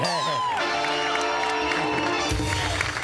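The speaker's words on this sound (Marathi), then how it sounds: "सर तुम्ही इथे आलेला एकदा जोरदार टाळ्या जॉनी सरांसाठी झाला पाहिजे." A studio audience on a Marathi comedy show starts clapping and cheering for Johnny sir near the end. It breaks in loudly over tonal background music that plays before it.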